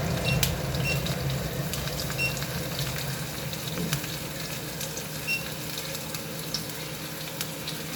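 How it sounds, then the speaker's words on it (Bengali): Potatoes fry in a pan for a fish and potato curry, giving a steady, close hiss and crackle with occasional faint clinks, continuous throughout with no voices. "আলুটা আর একটু ভাজা হোক।"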